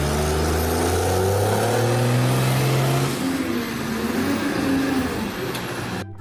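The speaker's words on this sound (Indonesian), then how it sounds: "kita mendapatkan truk sampah teman-teman" Garbage truck engine, a loud, close motor drone whose pitch climbs and then settles into a rougher idle rumble, running continuously and fading slightly near the end.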